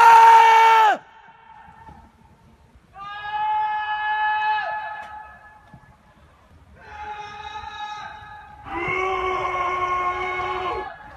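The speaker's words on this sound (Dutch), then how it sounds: "We schreeuwen!" Students yelling together at a student housing complex in Amsterdam at night, loud sustained group screams in four long bursts separated by quieter gaps, voices layered and echoing outdoors.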